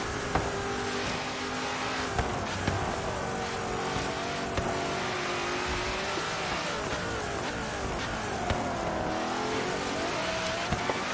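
A Le Mans prototype race car screams along in Forza Horizon 3, its engine holding a high sustained whine that rises and falls with shifts and corners, loud and close throughout, with no talk.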